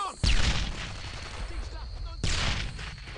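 Gunfire in the World War II shooter Brothers in Arms: Earned in Blood, a close burst of shots followed by a second loud volley about two seconds later, with rattling echoes and distant crackling between them.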